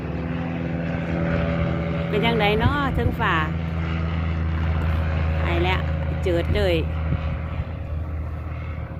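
A light aircraft engine and propeller drone steadily in flight over France, loud and constant throughout, while people chat and exclaim over it.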